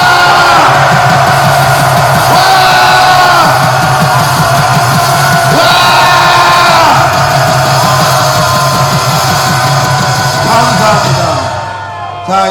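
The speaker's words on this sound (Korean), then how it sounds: "우리 큰 함성으로 우리의 결의를 다집시다." A rally crowd at an anti-impeachment gathering in Gwanghwamun roars and yells in one loud, sustained mass, voices rising in waves with shouted whoops before trailing off at the very end.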